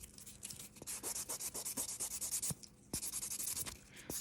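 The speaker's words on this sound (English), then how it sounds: "Just gonna do a little buff" Rapid back-and-forth buffing of a fingernail with a nail buffer, a close, scratchy rubbing in quick strokes with a couple of brief pauses.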